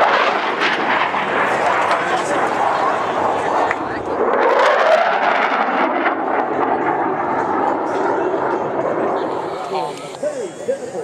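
Blue Angels jets fly at an air show, their loud engine roar swelling and shifting in pitch as they pass, then easing slightly near the end, with a voice speaking over it.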